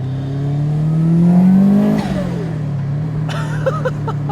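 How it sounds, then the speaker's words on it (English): A modified big-turbo Subaru WRX STI 'Blobeye' with a turbocharged EJ207 flat-four boxer engine revs up in one loud, close, rising sweep, then drops back to a rumbling idle. "It's just got that iconic Subaru rumble with this EJ207 engine."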